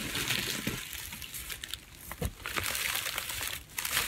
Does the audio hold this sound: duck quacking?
no